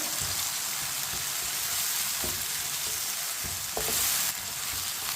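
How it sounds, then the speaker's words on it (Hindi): Chopped tomatoes and green chillies sizzle and fry in a pan for an aloo baingan curry, with a steady broadband hiss and occasional soft stirring scrapes, close and continuous with no talking. "अब इसे 3 मिनट के लिए पका लेंगे टमाटर को"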